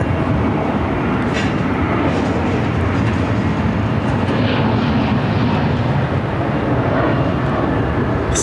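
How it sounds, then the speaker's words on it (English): A WestJet Boeing 737 MAX 8 arriving from Calgary at Phoenix airport rumbles loudly and steadily, a broad jet roar that swells slightly toward the middle and holds throughout. "This is WestJet flight 1492 coming in from Calgary. On the 737 MAX 8."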